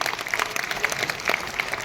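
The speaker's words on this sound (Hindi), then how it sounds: "एक बार जोरदार तालियां एओन के लिए।" Audience applause at a business seminar in Kolkata, a short burst of dense clapping from a crowd, steady and fairly distant.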